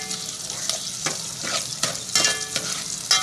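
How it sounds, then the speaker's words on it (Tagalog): Garlic, onion and chili sautéing in a pan as the base for pancit, with a bright sizzle broken by repeated stirring scrapes every half second or so, close and alone with no voices. "mag-isa na tayo ng bawang at sibuyas, sili"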